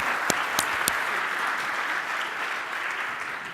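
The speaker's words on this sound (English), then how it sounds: "A warm round of applause for all of our panelists." Audience applause at the close of a business and investment forum panel session, steady dense clapping from a crowd with a few sharper claps standing out near the start, holding at an even level throughout.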